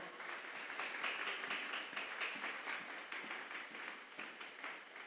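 A church congregation applauds together during a sermon, a steady wash of many hands clapping at moderate distance, sustained for several seconds without talk.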